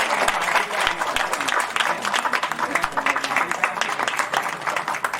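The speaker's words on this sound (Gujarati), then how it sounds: "આપણે સૌ બિરદાવીએ ને તાળીઓથી" Applause from a seated crowd at a Shrimad Bhagwat Katha religious discourse, a few seconds of fluttering, uneven clapping that swells and dips, with some voices mixed in.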